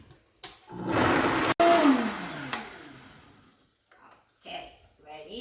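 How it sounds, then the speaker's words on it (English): A powerful Vitamix blender whirs loudly as it blends oats for oat milk: a close, steady roar that cuts out briefly, restarts, then winds down, with faint sounds afterward. "We put it in the blender. I use a Vitamix, which is very, very powerful."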